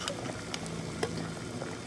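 Water boils in a pot with submerged jars of black raspberry jam, giving a faint, steady bubbling hiss.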